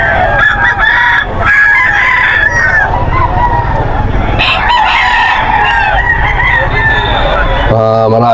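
Roosters crowing loudly and repeatedly amid clucking chickens, close by and overlapping, with a busy crowd murmuring underneath.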